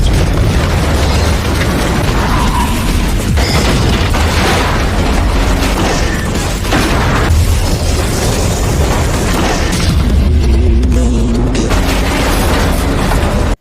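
Dense, loud booms and rumbling blasts from a film follow one another continuously, layered with crashing debris and cinematic noise.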